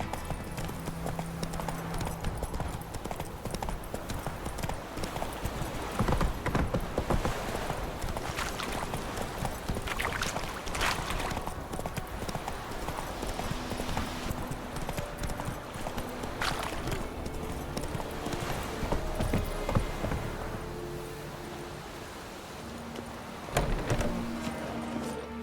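Hooves of Roach, a horse in the video game Witcher III, clip-clop steadily and close at a fast gait over a dense outdoor ambience, the rhythm continuing throughout with a brief lull near the end.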